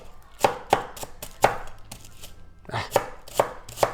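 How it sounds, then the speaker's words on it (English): A knife chops cabbage finely for egg rolls, giving about ten crisp thuds against a cutting board in an uneven rhythm, close and clear. "we're not going to bore you with the details on chopping up cabbage"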